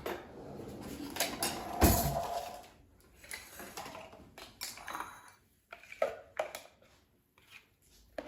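Cream cheese and salsa dip is scraped out of a food processor into a bowl. Irregular clinks and scrapes of a utensil against the container come close by, with one sharp knock and short gaps between bursts.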